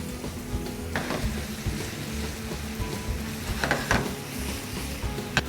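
Pork sauce with oyster sauce, sugar and a splash of stock stir-fried in a pan, giving a steady low sizzle with a few sharper scraping clatters, close and continuous, no talking.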